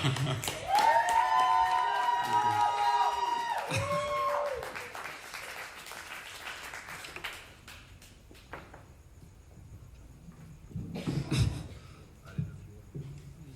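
Audience applause after a song at an artist showcase: loud clapping and some cheering at the start, with a sustained musical tone lingering underneath, then fading to scattered claps and room noise with a brief swell near the end.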